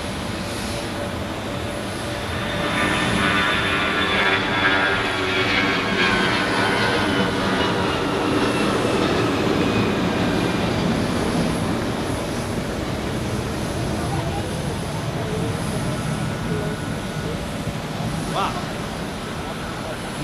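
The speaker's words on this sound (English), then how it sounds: "that's a long takeoff run for an A321" Airbus A321 jet taking off at Zurich Airport, a loud steady roar of engines building over a long takeoff run and holding throughout, with people talking over it.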